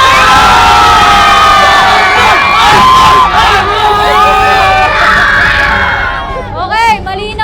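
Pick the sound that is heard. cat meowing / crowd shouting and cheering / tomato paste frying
crowd shouting and cheering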